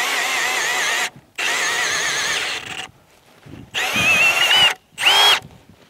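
A Milwaukee M18 Fuel cordless impact drill on a low speed bores into hard, sappy wood in four separate bursts, two longer and two shorter, each a loud whining drone with pitch sweeps, separated by quiet pauses.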